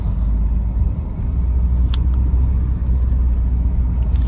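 A small car with a small-cc engine drives along a road, its engine and tyres making a steady low rumble heard from inside the vehicle.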